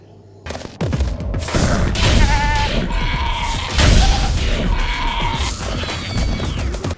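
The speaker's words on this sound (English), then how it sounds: "It's also a game where you curb stomp sheep with a horse wearing leather and a shower hat." Sheep bleat amid heavy thuds and crashes in the video game Tokyo Jungle, as a horse wearing leather and a shower hat stomps them, loud and dense with overlapping impacts and game sound effects.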